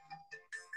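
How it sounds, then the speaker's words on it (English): A cell phone rings with short, bright electronic tones in a quick, uneven pattern, faint and somewhat distant. "Sorry for the cell phone."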